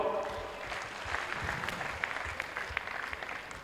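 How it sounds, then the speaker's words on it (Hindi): An audience claps at a Jain religious honouring ceremony, a dense, sustained round of applause from a large crowd mixed with voices and background talk. "थोड़ा जोर से ताली बजाओ।"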